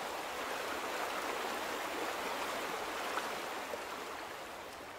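Water pours steadily from a large dam in The Vanishing of Ethan Carter, a dense, even roar of rushing water that holds at a constant level throughout, with no voices.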